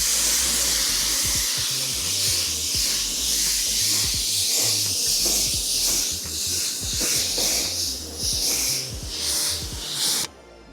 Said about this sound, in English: take this sealant spray a good amount